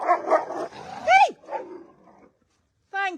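Several dogs on a farm with goats bark and yelp close by, a few sharp barks and a rising whine, with a voice mixed in, then a pause and one last clear bark.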